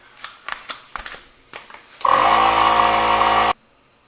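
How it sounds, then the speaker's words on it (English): Air compressor filling a patched tire runs in a loud, steady hiss and hum for about a second and a half after some handling clatter, then cuts off abruptly. "we're going to go ahead and use an air compressor to fill it back up with air"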